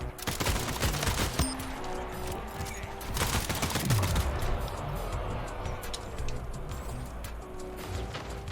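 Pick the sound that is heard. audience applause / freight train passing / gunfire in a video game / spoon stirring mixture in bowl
gunfire in a video game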